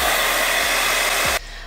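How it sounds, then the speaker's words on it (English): Hair dryer blowing on wet watercolour paint on a drawing of a scary bird: a loud, steady close-up whoosh of air that runs continuously, then cuts off abruptly near the end. "Hairdryer hit number 3."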